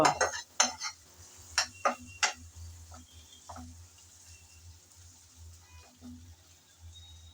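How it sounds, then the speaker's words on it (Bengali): A spoon clatters and scrapes against a pan while tomato and green chili masala is stirred, a few sharp knocks up front, then a quiet, soft sizzle underneath. "টমেটো আর কাঁচামরিচ দিয়ে মশলা আবারও ভালো করে কষিয়ে নেব"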